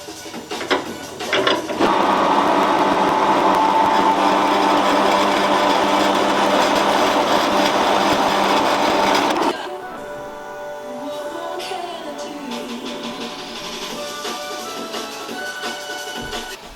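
A metal lathe cuts 6062 T6 aluminium stubs, giving a steady, loud machining whine with a rough edge that runs for several seconds. It then drops to a quieter motor hum as the cut ends.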